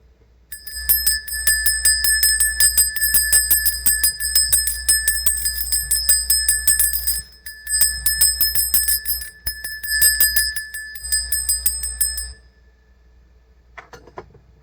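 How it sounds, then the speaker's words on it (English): Bright bell tones ring in a fast, steady repeating series for about twelve seconds, with short gaps near the middle, then stop abruptly and leave quiet. The ringing is loud and clear, with no voices. "When a bell rings, an angel gets its wings."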